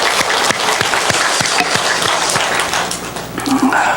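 A church congregation claps steadily for several seconds, dense and fairly loud, with a brief murmur of voices near the end.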